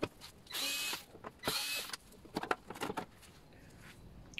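Plastic top cover being unclipped and pulled off a Briggs & Stratton Quantum lawn mower engine, with two bursts of rattling, scraping plastic followed by several short clicks and knocks, close and fairly quiet.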